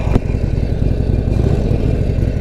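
A Harley-Davidson Sportster Forty-Eight V-twin idles close by, a loud, steady, lumpy rumble with no voices.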